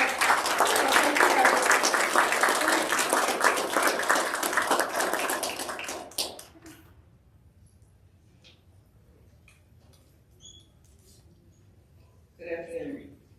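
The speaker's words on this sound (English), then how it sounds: "So, round of applause." A crowd at a university awards ceremony applauds warmly for about six seconds, then the clapping stops, leaving quiet room tone and a brief bit of talk near the end.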